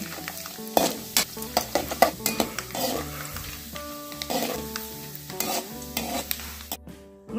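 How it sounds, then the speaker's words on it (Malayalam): Grated coconut fries in oil for Kerala inji curry, a close crackling sizzle broken by repeated sharp scrapes and clinks of a spatula stirring in the pan, with no talking. "ഇതിലേക്ക് നമുക്ക് അരിഞ്ഞു വച്ചിരിക്കുന്നതായ തേങ്ങ ഇട്ട് വറുത്ത് കോരിയെടുക്കാം."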